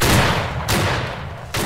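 Rifles firing at a cavalry reenactment line battle, three loud broadband cracks about a second apart with brief decaying echoes, close and forceful, no speech.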